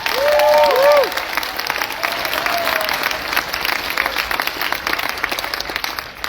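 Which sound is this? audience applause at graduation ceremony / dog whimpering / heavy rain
audience applause at graduation ceremony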